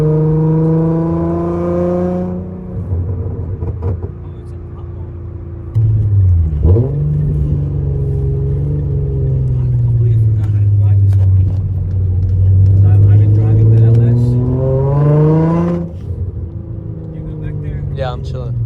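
A Nissan 350Z engine revs and accelerates through several gear pulls on its first drive, its droning tone rising and falling steadily from inside the car, with a brief lull between pulls.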